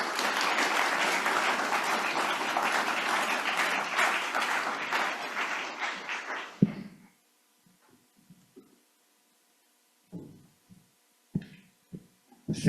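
Audience applause at a robotics competition event, sustained dense clapping for about six seconds that stops abruptly, followed by near silence with a few scattered thumps and faint noises.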